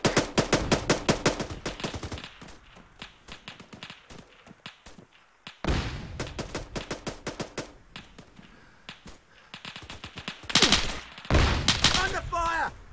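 Rapid bursts of automatic gunfire in the military shooter Arma 3 crackle in dense volleys with short pauses between them, loud and close, with isolated single shots among the bursts.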